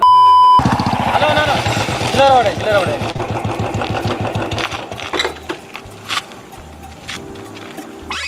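A Royal Enfield Bullet motorcycle engine thumps steadily at close range with a rapid, even idle rhythm, overlaid by people talking and a few sharp clicks.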